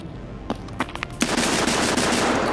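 A shotgun loaded with buckshot fires in a video game: a few sharp separate blasts, then a dense, loud, sustained burst of rapid gunfire that continues to the end.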